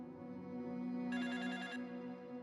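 A telephone bell rings once in a short burst, clear and close, over a steady low hum, with no one speaking.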